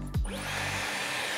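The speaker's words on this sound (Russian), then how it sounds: "Включаем фен." A hair dryer switches on with a brief falling whoosh, then runs as a loud steady rushing hiss, close by.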